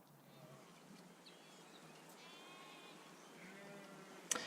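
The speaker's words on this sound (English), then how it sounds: "What do you think of the sheep background, by the way, and the sheep sounds?" Sheep bleating faintly in the background of an outdoor pastoral ambience, a few distant wavering bleats and soft bird calls over a steady airy hiss.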